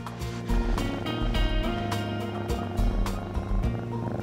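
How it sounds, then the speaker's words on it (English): Close, steady purring from a kitten during a vet examination, with a low rumbling pulse, continuous and fairly loud, with soft clicks and rustles over it. "Did you hear anything under all that purring?"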